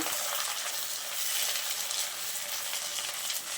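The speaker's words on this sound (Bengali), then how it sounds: "পেঁয়াজটা কিছুক্ষণ ভেজে নেওয়ার পর আমি এখন টমেটোটা দিয়ে দিচ্ছি। আবারও একবার নাড়াচাড়া করে নেব।" Chopped tomato sizzling in a pan of frying onions, a steady, close hiss of hot oil with faint stirring scrapes throughout, no voices.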